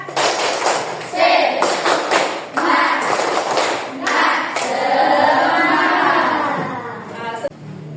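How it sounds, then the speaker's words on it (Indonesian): Schoolchildren in an Indonesian class do a patterned spirit clap, with several loud rhythmic bursts of hand claps and thuds followed by a longer stretch of voices and crowd noise. "Dan satu kali tepuk semangat"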